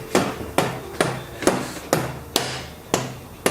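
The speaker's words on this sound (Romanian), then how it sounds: "să luăm un ciocan de gumă" Rubber mallet strikes on a Honda Transalp 650 motorcycle part during carburetor and bearing service, seven firm, evenly spaced blows, each a dull thud with a short ring, close and loud with no voices.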